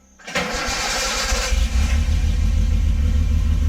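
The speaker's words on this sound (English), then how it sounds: "Man, it sounds like an actual car." A Honda H20i engine fitted with a newly installed exhaust cranks and catches, then settles into a loud, steady, rumbling idle, close to the microphone.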